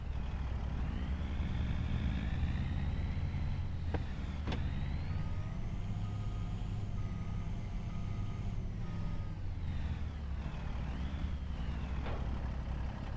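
Truck engine idling and revving in Farming Simulator 25, a steady low drone with rising and falling engine pitch, punctuated by a couple of sharp mechanical clicks and hisses, no talking.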